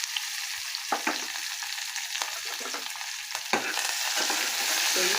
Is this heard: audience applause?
no